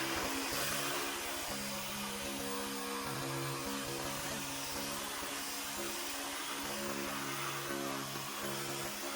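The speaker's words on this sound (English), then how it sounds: "I already hit it one pass with the polishing pad" A polishing machine with a wool pad works over a car headlight, making a continuous loud whirring drone with a wavering low tone. It runs close and steady throughout, with no talking.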